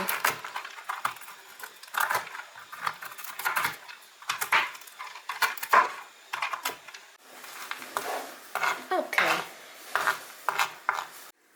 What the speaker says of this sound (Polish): Orzechy włoskie siekam na mniejsze kawałki